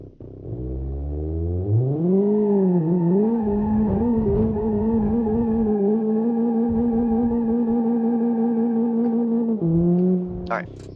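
A car in BeamNG Drive revs up from idle and holds a steady, loud engine drone at high revs with faint tire noise, then the pitch dips and climbs again near the end.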